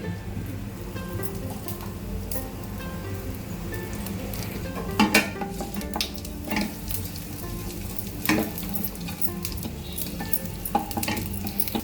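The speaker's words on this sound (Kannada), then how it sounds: "ನಾನಿವಾಗ ಎಣ್ಣೆ ಕಾದಿದೆ, ಸಾಸಿವೆ ಹಾಕ್ತಾ ಇದ್ದೀನಿ." Mustard seeds and hing sizzle and crackle in hot oil in a pan, a steady frying hiss broken by sharp pops and occasional clinks of stirring.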